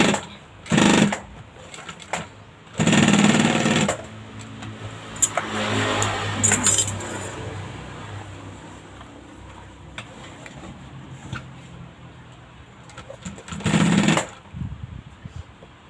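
A sewing machine stitches along a fabric edge in short bursts, with sharp, loud runs near the start, middle and end separated by quieter handling sounds, close and without talk.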